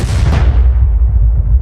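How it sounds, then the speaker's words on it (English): A bomb detonates in a wartime assassination attempt on Hitler: a loud, heavy blast with a sharp onset that rolls into a long, low rumbling boom filling the whole moment. "the bomb detonates"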